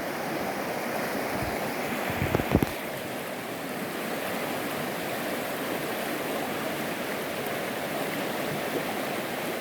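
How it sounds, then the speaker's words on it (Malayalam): Steady, full rush of mountain stream water pouring at Kaalikesham waterfalls in Keeriparai, Tamil Nadu, continuous and close, with a couple of brief low knocks midway and no voices. "ദൂരെ മലയിൽ നിന്നും ഒഴുകുന്ന വെള്ളമാണിത്."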